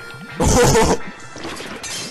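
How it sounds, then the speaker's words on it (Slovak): A baking mold for Christmas sweet bread breaks in a slapstick cartoon: one loud, harsh crash lasting about half a second, followed by quieter rustling noise. "forma sa nám rozbila"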